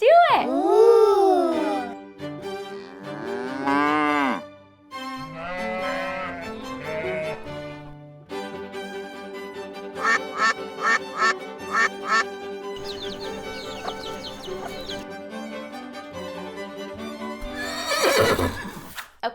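Farm animal calls ring out one after another: a horse whinnies at the start, followed by quacking and other bright, tonal animal cries, all clear and close with quiet gaps between them.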